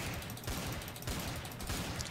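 Gunfire in the shooter game Trouble in Terrorist Town, a dense burst of rapid shots that runs the whole moment and is fairly quiet in the mix.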